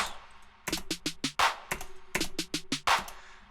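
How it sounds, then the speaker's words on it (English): Quick snare rolls stutter in repeating bursts within an electronic beat, each run building to a heavier hit, pitched low and punchy. "these snare rolls that appear in the choruses"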